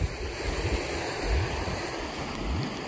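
Water rushes loudly and steadily over a spillway at a trout and bass fishing spot, a broad continuous roar with some wind buffeting the microphone and no speech.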